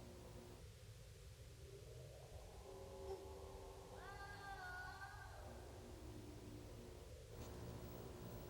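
Cats meowing in the video game Conker's Bad Fur Day, a drawn-out wavering meow in the middle over a steady hiss of background noise, fairly faint.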